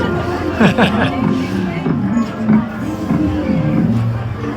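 Crowd chatter inside the Curious Labyrinth hedge maze at Disneyland Paris: a steady, close murmur of many overlapping voices with louder nearby talk rising and falling throughout.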